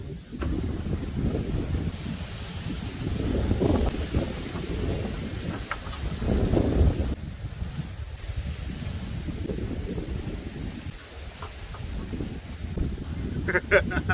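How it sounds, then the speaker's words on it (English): Strong gusts buffet the microphone in heavy, rumbling waves that swell and ease, with faint rustling and brief distant sounds between. "you can probably tell it's really windy today"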